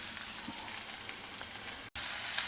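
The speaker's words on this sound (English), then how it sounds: "Add a teaspoon of Channa dal. Saute it in the oil." Chana dal sizzling and frying in hot oil in a pan, a steady continuous crackle with faint stirring, close and even, broken by a brief cut near the end.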